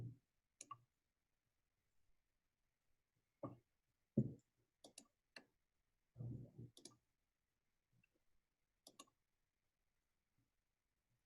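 Computer mouse clicks come in scattered bursts, some single and some quick doubles and triples, fairly close and crisp against a quiet room with long silent gaps between them.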